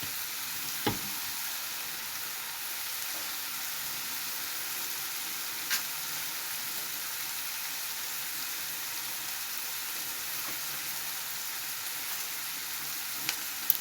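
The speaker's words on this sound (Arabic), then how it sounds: "الاول هدبل البصل، هرش عليه طبعا شوية من الملح" Onions with a little salt frying in a pan for a baked minced-beef pasta dish, a steady, even sizzle throughout with a few faint clicks, heard close with no talking.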